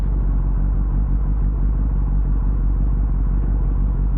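Steady, loud engine drone and road rumble from a 2021 Kawasaki ZX-10R sport motorcycle while riding, a continuous close-up roar with no breaks and no voices.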